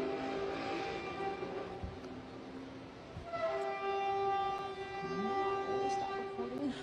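Long trumpet-like blaring tones sound in the sky during a lightning storm, several sustained horn-like notes overlapping and shifting in pitch at a distance, with faint background rumble.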